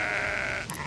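A sheep bleats in the fantasy video game Sudeki, one short sustained call heard close and alone in a farm setting.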